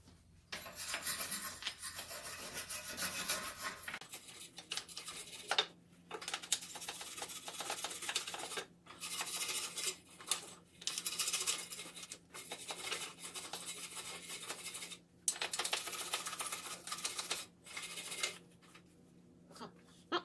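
A tool scrapes rust off a flex exhaust pipe to reach bare metal before welding, producing repeated harsh rasping strokes in bursts with short pauses, close and steady, with no talk.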